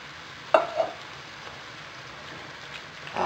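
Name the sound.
stirring diced tomatoes into pork guisantes in a pan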